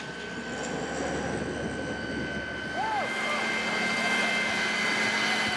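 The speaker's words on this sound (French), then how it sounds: "Les Canadair prennent la relève," A Canadair water bomber flies over a wildfire in the Gard region of France. Its engines make a loud, continuous drone that swells as the aircraft passes, with a brief tone sweeping up and down partway through.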